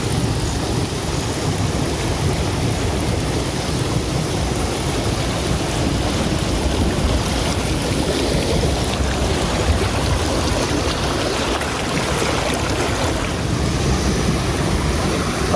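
Steady heavy rain pours through an afternoon thunderstorm, with rushing water running down a creek and low thunder rumbling beneath, loud and continuous with no voices.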